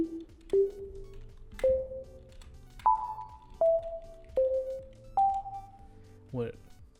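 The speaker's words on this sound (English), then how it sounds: "is I put reverb on it, and it just makes it sound super nice, even though it's a super simple sounding" A simple synth instrument drenched in reverb plays a slow, spaced melody for a chill video game song, seven or so clean plucked tones each ringing out into a soft tail before the next, close and alone.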